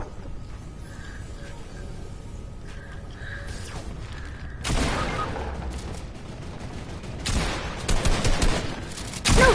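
Video game gunfire starts as a quiet backdrop, then volleys of shots break out in a loud burst midway and again in rapid clusters near the end.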